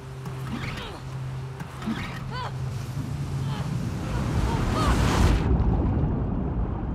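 Ocean surf and wind in The Last of Us Part 2, a broad continuous wash that swells toward the end, heard under scattered game sounds and a brief tonal hum.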